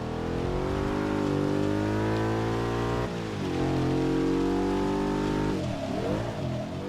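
A stock Audi S4 engine revs hard in Forza 6, a loud, steady harmonic drone that climbs in pitch, dips briefly as the revs reset, then rises again before falling off near the end.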